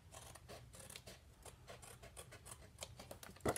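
Scissors snipping through card stock while making a small K-Cup gift bag, a quiet run of short rhythmic cuts and rasps up close, ending with a louder snip.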